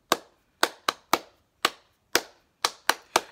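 Clapping along to the children's song Bingo in a music lesson: nine sharp, close claps in a slightly uneven rhythm, some spaced wider and some bunched together, heard alone with no talking.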